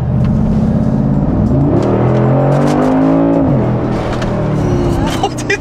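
A Brabus car's engine revs loudly up and down with a rising and falling roar, close by, while people talk over it.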